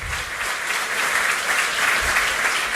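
A church congregation claps for itself during a pastor's sermon, producing a thick, continuous roar of applause that holds steady and loud for nearly three seconds with no voices on top.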